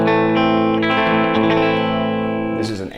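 Surf-style electric guitar through an amp simulator, slightly dirty with natural-sounding distortion, sustained chords ringing close and loud with reverb, alone.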